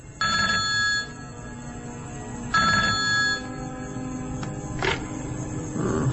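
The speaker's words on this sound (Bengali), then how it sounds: "তার ফোন বেজে উঠল।" A telephone rings at night in a quiet room, sounding in three loud, evenly spaced electronic ringtone bursts with short pauses between them, and no one speaks.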